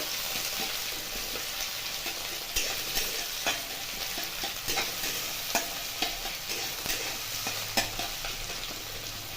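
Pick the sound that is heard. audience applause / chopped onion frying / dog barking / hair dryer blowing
chopped onion frying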